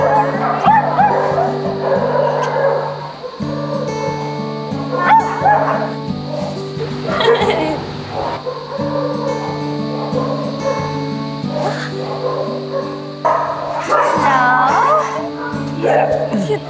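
Several dogs at an animal shelter yip, bark and whimper over and over, close and loud in overlapping bursts, while a child and other people talk and music plays underneath.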